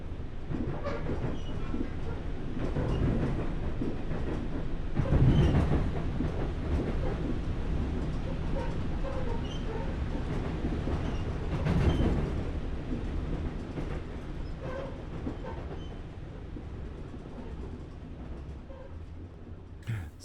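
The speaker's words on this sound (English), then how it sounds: "Stupid loud train." A loud train rumbles past close by for the whole stretch, a steady heavy roar with clattering wheels and two brief louder surges, fading slightly toward the end.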